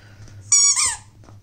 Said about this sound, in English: Can't wait till there's no more squeaky toys.